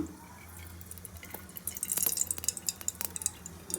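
About a spoonful of oil goes into a heated cooking pot, starting as a quiet pour and turning into rapid, close crackling and spitting drips that grow busier over the last two seconds.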